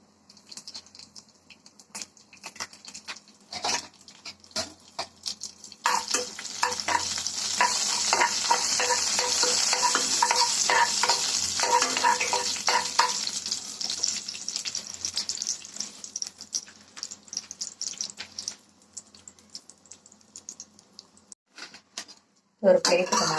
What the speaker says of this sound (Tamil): ஒரு 4-5 பட்டை வத்தல் வதக்கிக்கலாம்